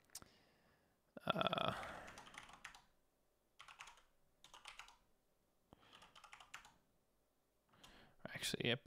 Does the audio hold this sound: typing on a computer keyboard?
yes